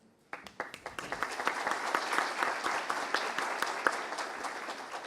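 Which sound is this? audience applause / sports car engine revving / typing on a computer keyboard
audience applause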